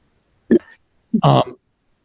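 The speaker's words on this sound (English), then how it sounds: "I actually was just clearing my throat and didn't realize I was not muted" Two short, raspy throat-clearing sounds, close and fairly quiet, the second longer and more voiced, separated by a brief pause.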